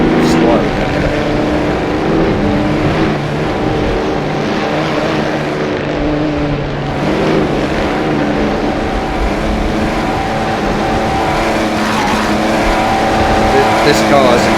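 Race car engine in the Assetto Corsa video game, a 1937 AVUS racer, droning steadily at high speed with a few gear-shift swells, close and loud throughout, while someone talks over it.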